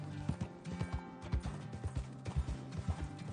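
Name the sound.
horse hooves clip-clopping in the video game Red Dead Redemption RP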